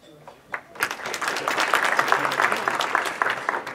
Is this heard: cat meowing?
no